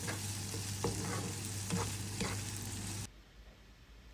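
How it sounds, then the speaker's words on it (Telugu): Marinated prawns frying with fried onions in a pan, a loud steady sizzle with a few scraping stirs, cutting off abruptly near the end and leaving quiet. "అలా ఫ్రై అయిన ఆనియన్స్లో మ్యారినేట్ చేసుకున్న ప్రాన్స్ వేసుకుందాం. సో ఇవన్నీ కలిపి మళ్ళీ ఫ్రై చేసుకుందాం."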